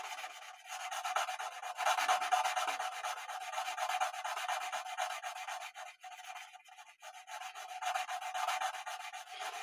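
Guitar frets being sanded with a spot leveling tool: close, continuous raspy rubbing strokes in a back-and-forth rhythm, bright and hissy, with brief pauses between passes and no talking.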